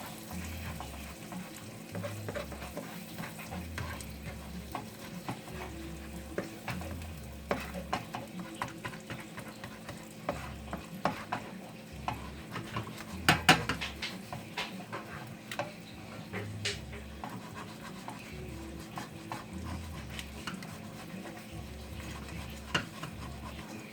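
Raw chorizo and eggs fry in a pan with a steady close sizzle for the whole stretch, broken by repeated scraping and knocking strokes of stirring, busiest near the middle; no one speaks.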